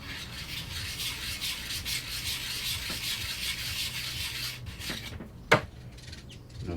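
A chisel being deburred on a fine Sharp Edge sharpening plate, steady close rasping strokes rubbing back and forth, followed by a brief sharp knock near the end and quieter scraping.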